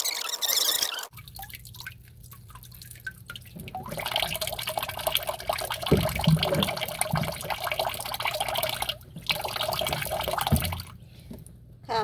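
Matsutake mushrooms being rinsed in water give steady splashing, trickling and dripping throughout, with brief pauses and occasional light knocks; faint voice in the background.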